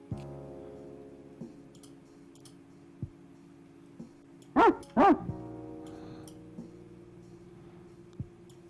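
A dog in the video game Stacklands gives two quick, sharp barks close together, standing out over faint, sparse game clicks and ticks with no talking.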